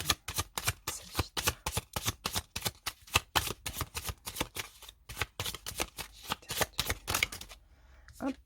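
Tarot cards being shuffled by hand, a rapid series of close crisp riffling flutters and slaps in uneven bursts that continue for several seconds, with a short pause, then faint handling at the end and no talk.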